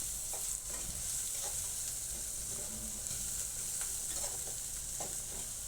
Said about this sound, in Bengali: পেঁয়াজ ভাজা হয়ে যাচ্ছে